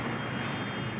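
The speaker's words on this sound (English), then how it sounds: "Machine has started. It has very low noise." An Abdullah dough kneading machine runs with a steady, low, even hum and a faint high whine, heard close and alone without talk.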